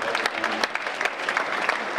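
A lecture audience breaks into sustained applause, a dense wash of many hands clapping at steady, moderate loudness for about two seconds, with no voice on top.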